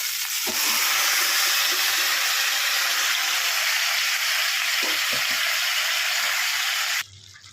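Marinated chicken fries loudly in hot oil with a constant, close, broadband sizzle and occasional stirring knocks, until the sizzle suddenly drops away near the end.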